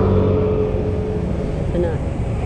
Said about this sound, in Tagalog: Lalaki nga lang ng mga truck na dumadaan